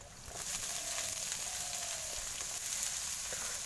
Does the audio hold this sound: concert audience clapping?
no